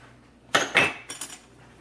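A spoon clinks and scrapes in a bowl of meatball mixture seasoned with black pepper and kosher salt, a few short close knocks in quick succession.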